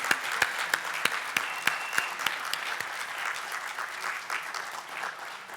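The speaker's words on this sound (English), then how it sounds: "You can clap" Applause from a summit audience, with a few distinct, sharp individual claps early on that blend into a steady, moderately loud wash of clapping.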